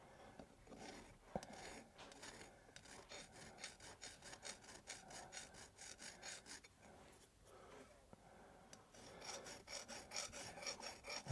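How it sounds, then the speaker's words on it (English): Hand filing metal on a tsuba, close rasping strokes in an uneven rhythm with brief pauses, dry scraping alone without talk. "the only downside of filing like this is that the burr is rolling over the line"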